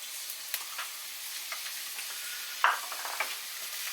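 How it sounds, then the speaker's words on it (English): Steady sizzling of onion frying in hot oil in a pan, with a few light scrapes and clicks of stirring. "get that stirring and frying for a minute or two."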